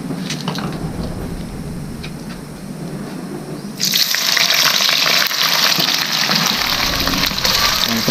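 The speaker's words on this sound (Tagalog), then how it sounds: "Prito-pritohin lang natin siya." A hotdog frying in hot oil, a steady hiss and sizzle that jumps suddenly louder partway through and stays as a dense, close crackling spatter.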